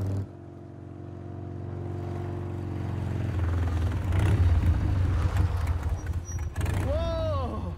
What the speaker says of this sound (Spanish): Mira, Mary Jane va en moto.